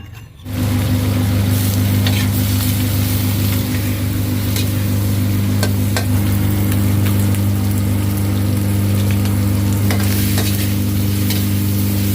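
Shrimp roasting in a pan with salt, lemongrass, bird's eye chili and garlic sizzles in a loud, dense hiss with stirring scrapes, over a constant low hum from nearby equipment.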